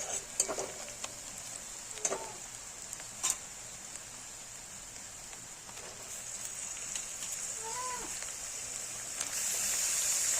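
Soft, continuous sizzling of chicken added to fried onions in a pan, with a few sharp clinks of utensils and a brief squeak, growing slightly louder at the end.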